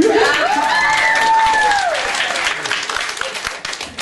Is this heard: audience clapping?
yes